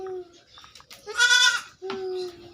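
Goat bleating close by on a farm, a few short nasal calls with one louder wavering bleat in the middle, and brief quiet talk around them.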